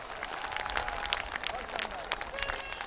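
Audience applause at a public address, a dense steady clapping from a crowd that continues throughout, with some voices mixed in underneath.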